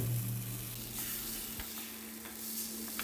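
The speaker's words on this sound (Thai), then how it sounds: "ให้เราตักแป้งลงไปในกระทะเลยครับ" Khanom thang taek (Thai crispy pancake) batter sizzles steadily in a hot pan, a dense crackling hiss with faint scraping, close up and continuous with no talking.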